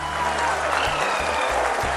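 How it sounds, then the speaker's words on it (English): People at India's Mission Control applaud a moon landing, a steady burst of clapping over a low hum, with faint voices mixed in and some low thumps near the end. "People are applauding."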